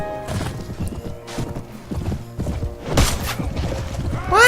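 Horse hooves clatter in a fast galloping rhythm during a mounted battle against horse archers in Mount and Blade Warband, with a horse's whinny rising near the end amid combat noise.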